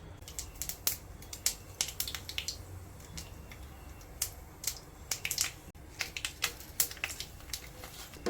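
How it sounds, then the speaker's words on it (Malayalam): Mustard seeds splutter in hot oil in a pan while squid roast is being cooked, a quiet, close scatter of irregular crackles and pops over a faint hiss. "എണ്ണ ചൂടായപ്പോൾ അതിലേക്ക് കടുക് ഇട്ട് കൊടുത്തിട്ടുണ്ട്."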